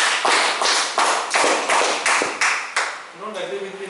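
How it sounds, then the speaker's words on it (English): Audience at a Toastmasters club meeting applauding, with a steady run of sharp, evenly spaced claps that fills the room before a voice comes in near the end. "You deserve a big round of applause."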